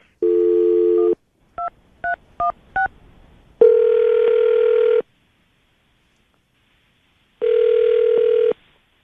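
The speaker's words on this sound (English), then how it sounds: "We're going to call her right now, see if we can get her on the phone" A telephone call is placed: a short tone, four quick keypad dial beeps, then two long ringback tones separated by a pause, clear and close with no talking.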